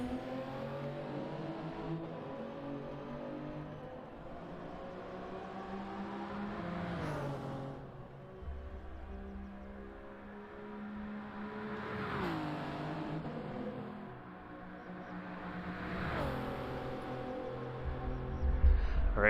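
A race car laps Spa-Francorchamps in a sim racing qualifying session, its engine droning and revving through the gears and then rising again, with sweeping whines from gear changes over about twenty seconds and moderately loud.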